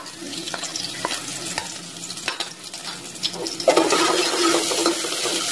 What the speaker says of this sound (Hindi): और इसे भूनेंगे